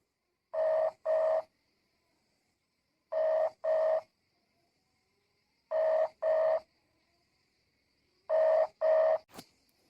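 Telephone dialing and ringback tone: four evenly spaced pairs of steady two-tone beeps, clear and alone, each pair followed by a pause, with a short click at the end.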